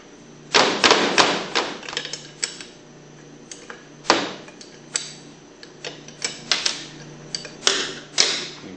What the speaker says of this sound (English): take your half inch wrench and remove these four bolts